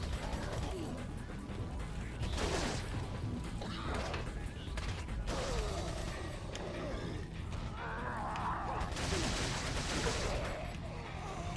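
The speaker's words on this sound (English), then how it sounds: "I am just gonna machine gun him down." A TMP machine gun in Resident Evil 4 fires in repeated rattling bursts amid busy game noise, fairly quiet overall, with a steady clatter of shots and mechanical sounds surging and easing across the stretch.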